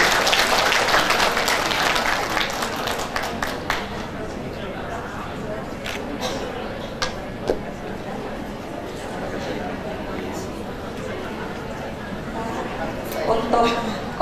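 Audience applause at a seminar, a burst of clapping that starts loud and gradually thins into scattered claps, with voices speaking over and after it in a room.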